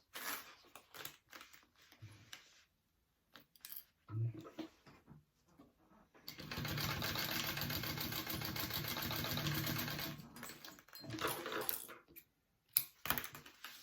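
A sewing machine bastes a pleat on a handbag pocket, a steady mid-loud run of stitching lasting several seconds, with shorter bursts of stitching and quiet handling sounds before and after.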